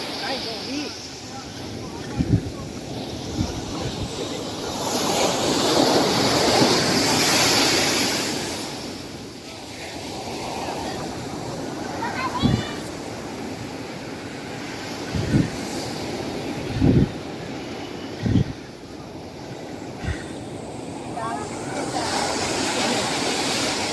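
Ocean waves washing up onto a beach at Barrio Barretto, a steady roar of surf swelling and fading, with people talking and scattered knocks and thumps nearby.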